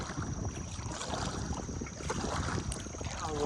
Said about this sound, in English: got the wind starting.